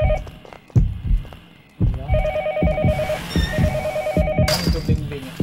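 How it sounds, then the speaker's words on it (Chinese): An in-game telephone rings in the horror game Yomawari on Switch, a repeating electronic trill in short bursts, with game footsteps and thuds around it and players talking briefly over it. "电话声。"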